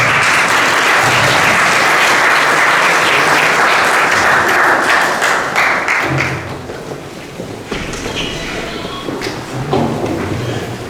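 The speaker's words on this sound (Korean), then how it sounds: "축복의 박수로 한번 받겠습니다" Dense audience applause at a church missionary gathering, loud and sustained for about six seconds before thinning into scattered claps and light room noise.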